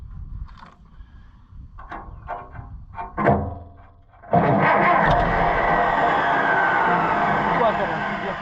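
An Allis-Chalmers WD tractor engine cranks and catches, first with a few brief knocks and clunks under a man's speech, then a loud, steady running roar that continues to the end.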